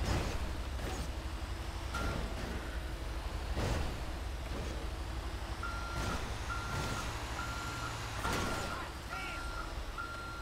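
A garbage truck in GTA V backs up with its reversing alarm beeping in a steady repeated pattern over engine rumble, while a player talks and laughs throughout.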